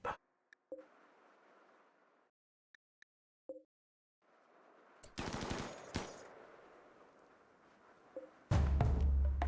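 Gunfire in the video game RimWorld: scattered single shots and short rapid bursts of machine-gun fire with gaps of quiet between, ending in a loud heavy blast, no talk.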